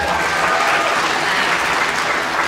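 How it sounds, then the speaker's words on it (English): Steady, dense applause from a large audience in an auditorium, loud and continuous throughout with no pauses. "So give Jim another round of applause."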